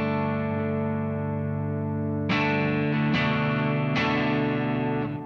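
Electric guitar run through a worship pedalboard, sustained chords with subtle delay repeats and reverb tails, three fresh strums ringing loud and alone over washy ambient echoes.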